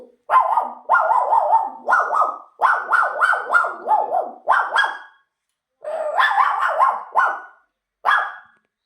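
A fifth-grade boy imitates puppies barking: a close series of loud, high, yappy barks in quick bursts, pausing briefly before a second run of yips and one last bark.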